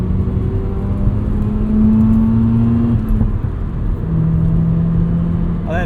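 The rotary engine of a 1990 FC Mazda RX-7 pulls hard close by, its pitch climbing, dipping briefly as a gear changes, then climbing again.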